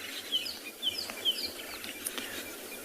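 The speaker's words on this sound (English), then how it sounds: "You can hear spurfowls and francolins calling." Spurfowls and francolins call faintly at sunrise on a South African safari, a scatter of short, sharp chirping notes repeated at irregular intervals over a low, quiet background.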